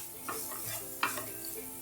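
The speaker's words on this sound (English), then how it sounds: "Now you want to let the spices cook for a bit." Spices sizzle gently in a pan for a Singapore chicken fried rice while a utensil stirs them, with light scrapes and one sharper clink, close and quiet.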